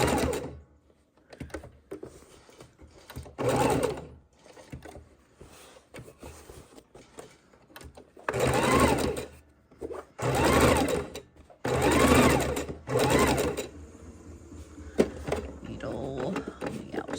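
A sewing machine stitches a raw edge appliqué in several loud, close bursts of rapid mechanical whirring. Quiet pauses fall between the runs, and a voice speaks in some of the gaps.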